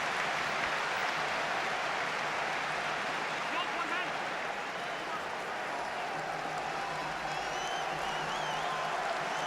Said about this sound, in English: And they applaud Rice, they applaud the young hero in the corner there.